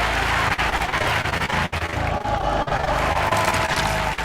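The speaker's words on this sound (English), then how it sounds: "The crowd is really into it." A live audience cheers and yells at a watermelon-eating contest, loud and continuous, with the roar dipping briefly a few times.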